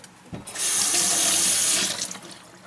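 Water running from a kitchen tap to wet a Spam musubi mold: a steady, loud rushing stream that starts abruptly, holds for over a second, then cuts off into faint dripping.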